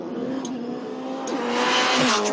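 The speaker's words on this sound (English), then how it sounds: "90 miles an hour into the last corner, just sliding through the last turn and across the line" Ford Fiesta race car sliding through the final corner at about 90 mph, a loud steady engine drone with tire squeal and skidding building toward the end, continuous with no talk.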